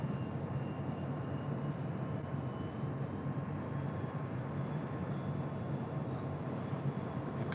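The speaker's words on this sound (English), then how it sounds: "777 freighter coming in from Seoul." A Korean Air Cargo Boeing 777 freighter lands at LAX on a heavy flight in from Seoul. Its jet engines make a steady, loud, broadband roar that holds through the whole stretch with no voices.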